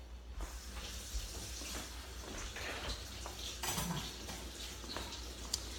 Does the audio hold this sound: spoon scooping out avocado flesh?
yes